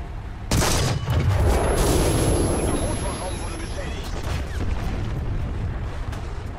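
A tank's main gun fires in a video game with a sudden loud blast, followed by a long rumbling roar and battlefield din, while voices talk over it.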